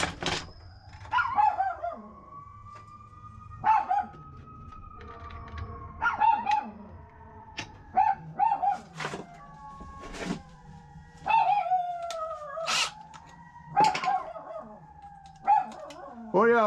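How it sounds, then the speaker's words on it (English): Several dogs barking and howling outdoors, a series of drawn-out wavering howls with sharp barks between them, moderately close, with a person's voice now and then. "What y'all barking at?"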